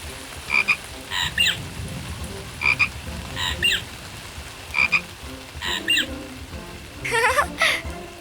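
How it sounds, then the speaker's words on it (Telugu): A cartoon frog croaks in the rain, short bright croaks repeating in pairs and clusters over a soft patter of rainfall, ending in a quicker burst of croaking. "కప్పతో ఆడుతూ వానలో ఉన్నారా బుజ్జి టూకీ ప్యారీ?"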